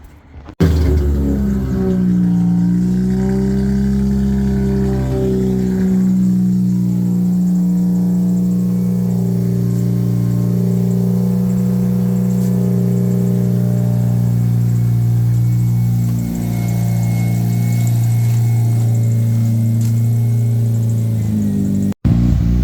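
A Mazda RX-8 drift car's rotary engine idles steadily while warming up, a close, loud, continuous rumble with a brief rev at the start and slight fluctuations, cutting off abruptly at the end.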